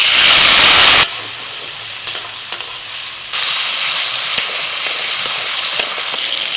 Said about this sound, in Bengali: কড়াইতে তেল দিয়ে ওর মধ্যে দিয়ে দিচ্ছি তেজপাতা, দিয়ে দিচ্ছি টমেটো কুচি